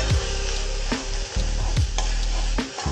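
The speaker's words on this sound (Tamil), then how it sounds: "அதை நல்லா அப்படி சுரண்டி நல்லா வதக்கணும்." Crushed garlic sizzles and fries in a pan while a spoon stirs and scrapes the bottom, with several sharp scraping strokes cutting through the continuous close, loud frying hiss.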